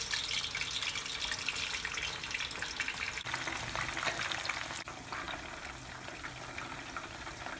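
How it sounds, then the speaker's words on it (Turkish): Steady, dense sizzling of hamburger meat patties frying in hot oil, close and fairly quiet, continuing without pause and with no voices. "köfteleri bu şekilde bu yağda kızartalım dedik."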